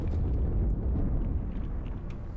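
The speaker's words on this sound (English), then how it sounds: "That explosion came from inside the Athens" A deep, sustained explosion rumble from inside the Athens in the Halo 2 video game, a loud low roar filling the whole stretch with no speech over it.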